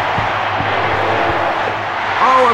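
Crowd applause and stadium roar in the PS1 football video game FIFA 99, a steady broad wash of cheering that swells slightly near the end, with faint game tones and clicks underneath.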